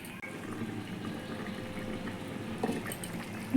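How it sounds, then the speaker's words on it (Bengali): Egg masala gravy with potatoes bubbling in a covered pan on a gas flame, a steady soft simmering hiss and low bubbling that holds evenly throughout, with one brief clink near the end. "ঝোল ফুটে গেছে"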